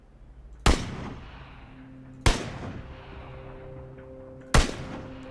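Three single gunshots from the video game PUBG, each a loud sharp crack with a rumbling tail, spaced about two seconds apart, with no talking.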